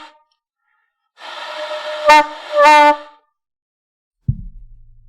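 Alto saxophone played by a beginner on the first day, producing a wavering, honking first note in two swelling bursts, followed by a brief thump near the end.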